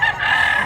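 A fifteen-month-old white rooster at a chicken sale in Mantalungon, Cebu, gives a single loud, close crowing call that holds steady for its short duration, with no talk over it.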